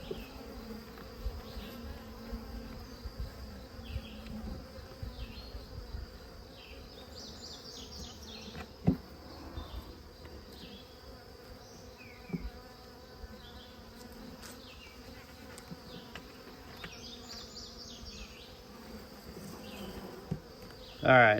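Honey bees from a rescued hive hum in a dense, continuous buzz close by, with individual bees droning past and faint clicks from frames being handled.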